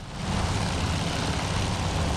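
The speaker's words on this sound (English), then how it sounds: "Right above his propeller there he is. Yep, it's a float plane." A float plane's propeller engine in the naval combat game Task Force Admiral drones as a steady, loud, broadband roar with a low rumbling base, unbroken and alone for a couple of seconds.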